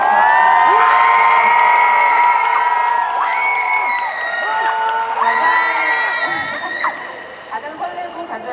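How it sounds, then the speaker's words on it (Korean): A festival crowd at an open talk event at the Busan International Film Festival cheers, whoops and claps loudly, with shrill excited shouts rising over the applause and voices mixed throughout before it trails off. "여러분, 큰 박수."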